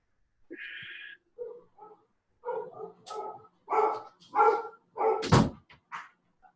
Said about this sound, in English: Let me tell these dogs to shut up.